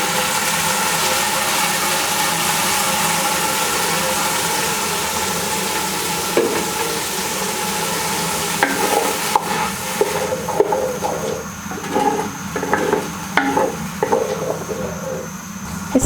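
Gravy added to sautéed onion and garlic in a pan, steady cooking hiss and sizzle with clinks of stirring growing in the second half.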